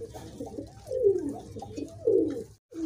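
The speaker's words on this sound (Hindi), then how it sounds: "जब तक के ये कबूतर हमारे दाना खाने में मसरूफ़ है" Pigeons coo in soft, repeated rolling calls while feeding on grain, close by and moderate in level over a low background hum, with two stronger coos and a brief dropout near the end.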